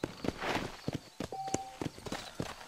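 Horse hooves clip-clop at a walking pace in Red Dead Redemption, a quiet, irregular run of soft thuds with a brief tone partway through.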